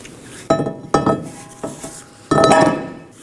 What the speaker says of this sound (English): Now let's go ahead and install our brake rotor.